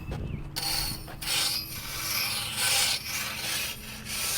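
A rake scrapes and drags through loose dirt around a base on a baseball field. The rough, steady rubbing and grinding comes in repeated strokes and stays close and fairly loud, with no voices.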